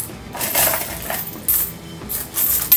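Coins are poured into a Bellroy Hatchback folding wallet in three loud, close jingling bursts of clinking metal, with brief pauses between them.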